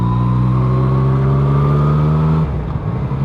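A McLaren sports car engine revs loudly nearby, holding a steady rising drone for a couple of seconds before dropping off as the revs fall away.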